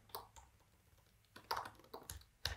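Brief bursts of keystrokes on a computer keyboard, a few quick taps and clicks spaced irregularly, close and fairly quiet with no talking.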